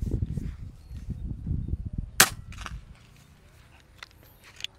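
A single sharp, snapping PCP air rifle shot cracks out near the middle, with low rumbling handling noise before it and quiet clicks afterward.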